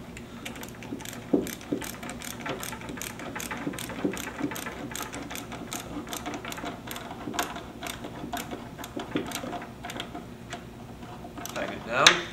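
Hose clamp being tightened around a boot on an entry panel, a rapid steady ratcheting click close to the mic that runs for several seconds, while a voice talks over it.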